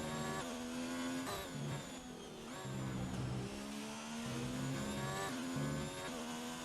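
Onboard sound of an Alfa Romeo race car at Spa-Francorchamps in a racing game, the engine screaming at high revs with repeated upshifts and short lifts, steady and close throughout with no speech.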